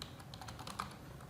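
Fingers type quickly on a computer keyboard, a quiet run of soft, close key clicks with no voices.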